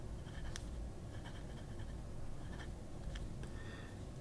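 An Infinigrav pen, held in reverse, writes in quiet scratchy strokes over a steady low background hum, the faint short scribbles coming in small clusters.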